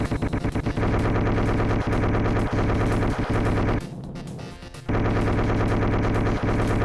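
A Vulcan gun firing in a shooter video game, a loud, rapid, continuous mechanical rattle of gunfire that drops away for about a second midway before resuming, with no speech over it.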